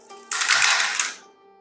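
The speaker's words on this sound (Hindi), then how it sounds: "so let's shuffle up your cards first" A deck of tarot cards is riffle-shuffled in one quick, close, crisp burst of rapid fluttering card snaps lasting about a second, then fading out.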